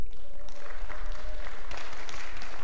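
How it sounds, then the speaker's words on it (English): An audience at a college chapel awards gathering claps throughout, a dense steady round of applause from a room full of people. "Y'all not gonna clap for y'all peoples?"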